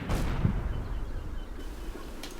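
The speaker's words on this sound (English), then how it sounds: "We start with tank shooting at our tank" Tank gunfire in the Combat Mission war game opens with a sharp blast that decays into a long low rumble, and a fainter crack follows near the end.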